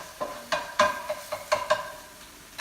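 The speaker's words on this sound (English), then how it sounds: "Give a bit of a mix around." Spatula stirring food frying in a pan with basil, a run of scraping, clacking strokes over a soft sizzle, close and moderately loud, no talking.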